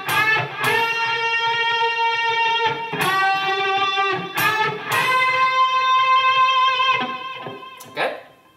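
Electric guitar playing repeated unison bends, sustained distorted notes that rise together in pitch, ringing out in a few phrases, no voices.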